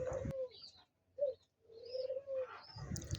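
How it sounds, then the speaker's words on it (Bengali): A pair of doves calling near a house, soft low coos in short phrases with a brief gap between, fairly faint and close, with no voices. "আপনারা আমার এক জোড়া ঘুঘুকে দেখেন।"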